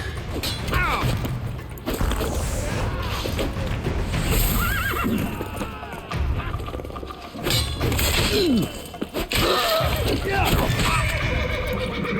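Horses whinny repeatedly over hoofbeats and clattering in a busy, loud scene in The Witcher 3: Wild Hunt, with voices speaking at times.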